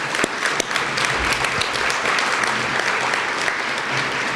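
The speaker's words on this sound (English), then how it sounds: "You talk about a round of applause." Dense, loud applause from a large audience at an awards dinner marking the silver anniversary of a business integrity awards event; steady clapping continues throughout with no talk over it.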